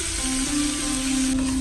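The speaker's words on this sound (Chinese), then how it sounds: "再把刚才准备好的大料也加进来，开小火快速的翻炒" Star anise and a few slices of ginger fry in a small amount of lightly heated oil in a wok over low heat, giving a steady, dense sizzle with a faint tone running through it and no voices.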